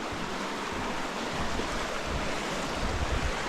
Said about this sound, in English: So this creek underneath here, this is quite a Jumping Pound Creek.